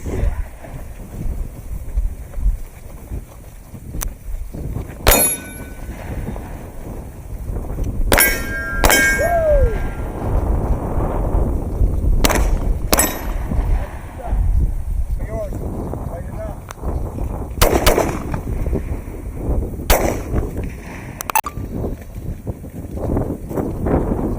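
Gunshots striking a steel target at an outdoor carry training range, several sharp metallic clangs spread irregularly over a windy background, some in quick pairs, with people talking at times.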